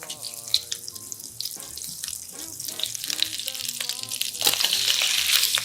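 Shrimps fry in a pan of melted unsalted butter and olive oil over medium heat, a steady close sizzle with light clinks and stirring that swells louder toward the end.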